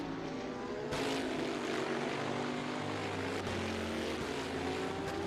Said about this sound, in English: Unmistakable engine sounds from the Bentley.